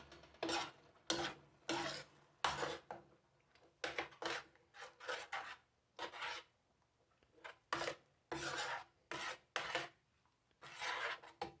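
A spoon stirs pasta ingredients with garlic powder in a single pot, making a long run of rhythmic scraping strokes, close and fairly soft, with short gaps between them.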